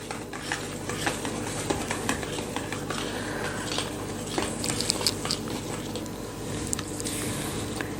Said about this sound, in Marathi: आता हे व्यवस्थित मिक्स करून घेऊया